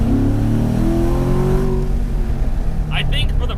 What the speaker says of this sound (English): there's something just absolutely delightful about a naturally aspirated small block Chevy V8 engine